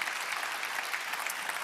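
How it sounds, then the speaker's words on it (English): Conference audience applause welcoming the Prime Minister of Luxembourg, Xavier Bettel, at a forum, a dense, steady clapping from a large hall crowd, even and sustained throughout. "Please give him a round of applause."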